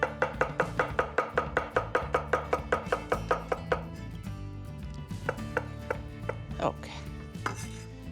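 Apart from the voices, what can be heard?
cutting radicchio with a knife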